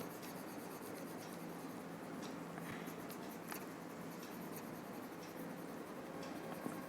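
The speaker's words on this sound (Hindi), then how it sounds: "तो मैं यहाँ रब करके लिख रही हूँ" Chalk or marker writing on a board right after rubbing it out, a steady soft scratching and rubbing texture throughout, faint and close, with no voices.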